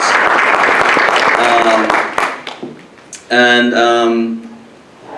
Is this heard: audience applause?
yes